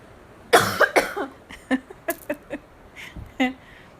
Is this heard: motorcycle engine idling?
no